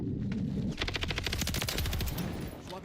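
Rapid automatic gunfire in Modern Warfare III multiplayer, a dense, continuous burst of shots close and loud with no pauses.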